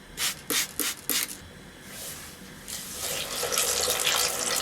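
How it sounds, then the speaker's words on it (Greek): Squid being misted with water from a hand spray bottle before frying: a few short sharp spritzes up front, then a longer steadier hiss of spray, close and fairly loud, with no talking. "Θα το ψεκάσω με νερό, με το ψεκαστήρι."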